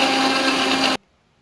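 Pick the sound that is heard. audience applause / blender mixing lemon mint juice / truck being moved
blender mixing lemon mint juice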